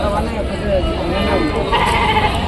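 Lambs bleat in a wavering, nasal way amid a noisy outdoor crowd at an animal market, with people talking nearby throughout.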